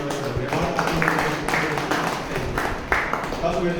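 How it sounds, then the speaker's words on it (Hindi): An audience claps loudly in a room, a dense ragged patter of hands that runs throughout with talking over it. "अपनी रेख में जोरदार ताली बजाए"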